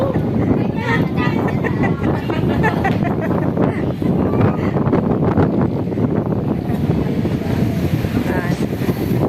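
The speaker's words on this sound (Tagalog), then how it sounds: "Grabe ang hangin. Tignan nyo." Strong wind roaring and buffeting the microphone continuously, loud and close, with a person talking underneath.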